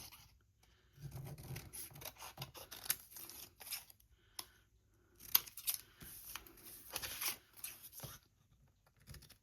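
Scissors snip through sheets of stamped paper, cutting between the printed rows in a run of short, crisp cuts and rustles close by, broken by brief pauses, with no talking.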